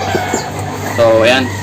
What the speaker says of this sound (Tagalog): katulad ngayon, maingay yung manok